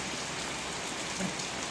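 Steady rain falls through a storm in the Sundarbans, a dense even hiss of drops hitting surfaces, alone with no voices.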